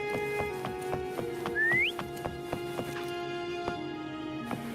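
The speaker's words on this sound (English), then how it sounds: "Try whistling." In the video game Wuthering Waves, a short rising whistle calls a horse. It sounds once, brief and clear, over steady clip-clopping hoofbeats and background music.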